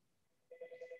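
A telephone rings in a lecture room, its warbling electronic ring starting halfway through with several rapid pulses, moderately loud over quiet room tone.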